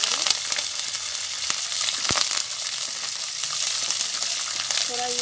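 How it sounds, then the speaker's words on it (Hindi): Curry leaves frying in hot oil in a pan over high flame for sooji upma, a loud, dense, continuous sizzle close by, with an occasional sharp tap of a utensil against the pan. "और इसको एक साथ फ्राई करेंगे।"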